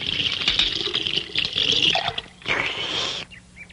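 Water pours from a jug in bursts, a splashing fill that stops briefly, then a second short pour ending in drips, fairly close and with no talking.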